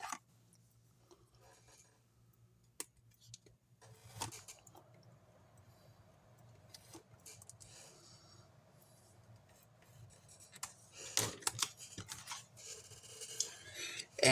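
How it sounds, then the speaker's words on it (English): Scissors cut paper for a handmade gift box in scattered snips with rustling and rubbing of paper, close but quiet, growing busier and louder toward the end. "So we're going to go ahead and cut that out."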